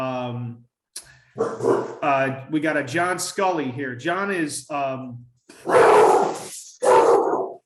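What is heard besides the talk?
dog barking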